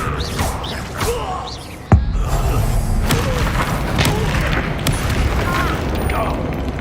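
Spell effects from the Hogwarts Legacy video game: a sharp booming impact near two seconds, then a dense run of whooshes, thumps and crackling bursts, all loud and continuous.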